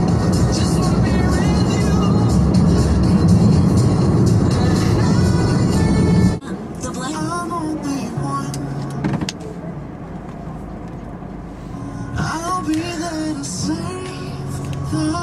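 Strong wind roars outside before a car door thuds shut. The noise drops abruptly to a quieter cabin hum as the car rides along, with a voice talking now and then.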